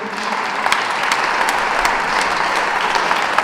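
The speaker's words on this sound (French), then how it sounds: "d'applaudir une fois de plus ce grand homme." Audience applause at a Paris tribute ceremony for a Cameroonian musician, loud and close, with individual claps standing out from a steady wash of clapping for several seconds.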